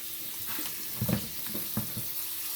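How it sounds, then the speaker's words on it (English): Cold tap water runs steadily over elbow macaroni in a strainer. It makes a soft, even hiss and patter, with a few brief clanks of the metal. "We're going to put them in the strainer like that. Put some cold water on them and stop them from cooking."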